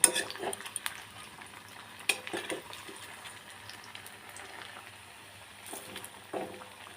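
Ash gourd chops coated in gram flour batter fry in hot oil in a pan. A soft, steady sizzle carries through, broken by a few sharp clinks and scrapes as the pieces are turned.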